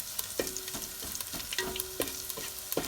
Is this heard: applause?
no